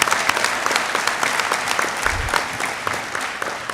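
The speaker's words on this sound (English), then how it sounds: "We can clap." Graduation audience at the Westlake Academy class of 2023 ceremony applauding, a dense, steady wash of many hands clapping at moderate loudness throughout, with no talk over it.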